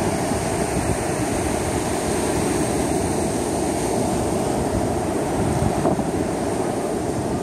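Sea surf at Barra de Santiago, a steady loud wash of waves blended with wind buffeting the microphone, constant throughout with no voices.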